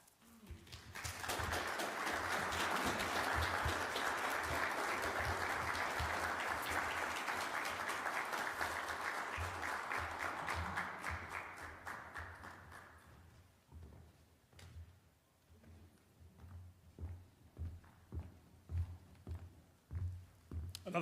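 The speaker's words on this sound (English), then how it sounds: "Another round of applause" A ceremony audience for a poetry reading at a memorial prize event breaks into loud, sustained applause for about ten seconds, then thins to scattered individual claps.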